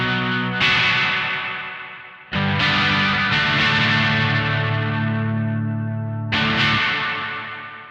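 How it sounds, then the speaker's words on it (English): An electric guitar played through an Analog Alien Rumble Seat pedal rings out in three strummed chords, each bright attack followed by a long, washy reverb tail that decays slowly until the next strike. "you hear that those reverb tails are significantly more predominant in the sound"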